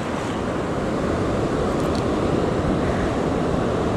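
Ocean waves roll and wash continuously onto a San Diego County beach, a loud, steady roar of surf mixed with wind noise on the microphone.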